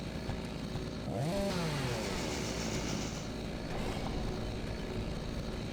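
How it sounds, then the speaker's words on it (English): A chainsaw revs and roars continuously in the Doom 3 shooter, its engine pitch sweeping up and down over a dense, loud mechanical drone with no talking. "chainsaw is very effective in this game."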